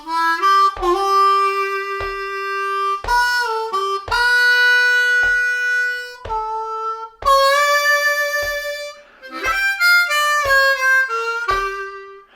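Bluesy Amazing Grace lick played alone on a C harmonica, opening with a quick triplet and then sustained bent draw notes in clear phrases separated by short breaths, loud and close.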